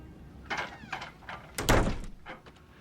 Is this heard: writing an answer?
no